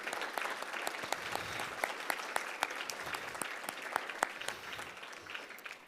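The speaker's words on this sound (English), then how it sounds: "So let's give a big round of applause to our sponsors." A gala audience applauding its sponsors, steady dense clapping from a crowd with sharp individual claps standing out, moderately loud and sustained for the whole stretch.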